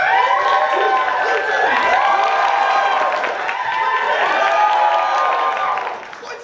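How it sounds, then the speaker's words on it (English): An improv show audience at a Halloween performance cheers and applauds loudly for the winning team, a dense sustained roar of clapping, whoops and shouting voices that swells and stays strong before easing off at the end. "go crazy with applause if you think they won"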